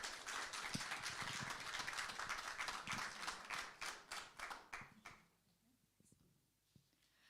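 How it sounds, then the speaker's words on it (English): Audience at a constitutional reform town hall applauds to welcome a minister to the stage, a full burst of clapping that breaks into scattered, fading claps and then dies away to near silence. "please join me in a round of applause"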